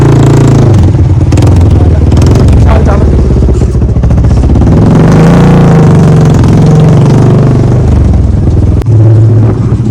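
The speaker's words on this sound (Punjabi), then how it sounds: "ਅੱਜ ਤਾਂ ਮੋਟਰਸਾਈਕਲ ਫਸਾ ਲਿਆ ਇੱਥੇ" A motorcycle stuck in a village lane, its engine revving hard and loud throughout with rising and falling throttle bursts and clattering.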